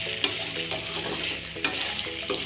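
Pork sizzling in its own rendered fat in a pan, a steady close frying hiss broken by a few sharp clinks and scrapes of a utensil stirring the meat, no talking.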